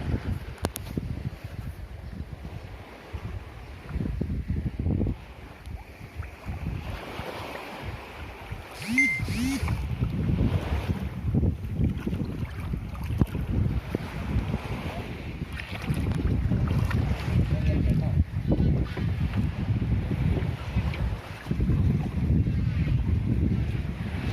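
A homemade short-shaft outboard motor drives a 2.5-ton boat, giving a steady engine drone outdoors with heavy wind buffeting and water noise for the whole stretch.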